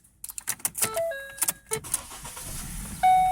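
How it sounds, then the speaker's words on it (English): Keys jangle and rattle in the ignition of a 2012 Ford Focus, a couple of warning chimes sound, and the engine then catches and settles into a steady idle, close up with no talking. "We're going to start the car."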